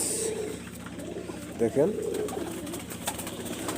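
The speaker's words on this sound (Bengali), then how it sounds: "এটাও গোল্ডেন কবুতর।" Golden pigeons, a tagged pair of flying birds, coo in low repeated pulses under a man's speech, with a brief louder burst of calls midway.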